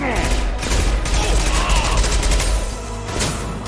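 Sustained gunfire with incendiary rounds in the video game Mass Effect 2: dense, continuous rapid shots and crackling bursts under a steady roar of battle, loud and close throughout.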